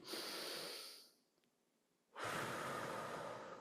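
A group of people breathe in together during a diaphragmatic breathing exercise in a singing session for people with Parkinson's disease, giving two broad, airy inhalations separated by a short pause, moderately loud and with no talking.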